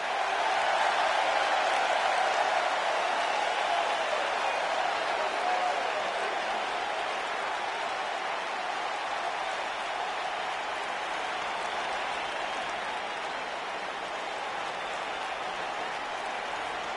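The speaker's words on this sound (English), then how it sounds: "it seems to me like this is the one this sold-out crowd came to see" Large sold-out arena crowd in the WWE 2K19 wrestling video game cheering and applauding steadily, a dense continuous roar that stays loud and fairly even throughout, easing slightly after the first few seconds, with no voices standing out.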